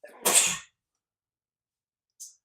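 A single loud, sharp sneeze near the mic, followed after a pause by a brief faint hiss.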